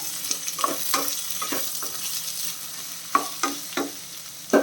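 Two finely sliced onions frying with ginger and garlic in a pan, a steady close sizzle broken by several sharp scraping stirs of a spoon against the metal.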